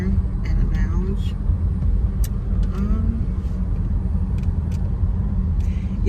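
Steady low rumble of a car driving along a road, heard from inside the vehicle, with a person talking over it.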